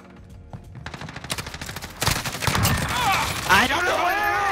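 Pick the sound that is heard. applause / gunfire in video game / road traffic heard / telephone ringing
gunfire in video game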